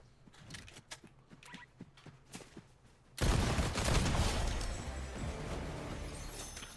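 Gunfire in the Fortnite video game: scattered sharp cracks and footstep-like taps, then an abrupt, loud, sustained volley of shots that keeps roaring to the end.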